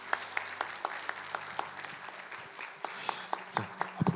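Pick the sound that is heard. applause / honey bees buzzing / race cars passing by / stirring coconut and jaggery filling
applause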